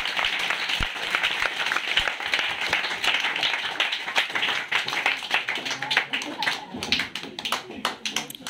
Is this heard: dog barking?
no